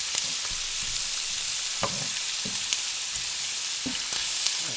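Freshly cut onions sizzle steadily in a hot pan for Polynesian fried rice, a constant loud frying hiss with occasional soft clinks and stirring taps, no voices.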